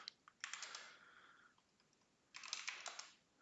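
Typing on a computer keyboard: two short bursts of quick, faint key clicks separated by a pause, close and alone.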